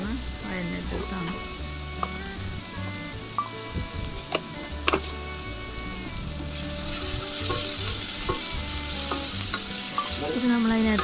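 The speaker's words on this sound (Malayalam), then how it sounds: "നന്നായിട്ട് നമ്മളതൊന്ന് വഴറ്റിയെടുക്കണം" Steady sizzling of samosa masala sautéing in a pan, continuous and close, with a spoon stirring and scraping at intervals and a voice talking underneath.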